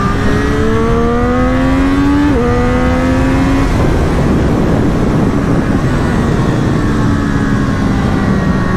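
A Kawasaki Z900 motorcycle engine revs hard and close, its tone rising and then dropping, followed by a loud, rough, sustained roar that fills the whole stretch with no talking.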